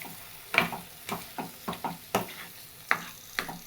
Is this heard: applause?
no